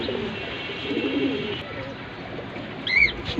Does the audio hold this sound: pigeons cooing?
yes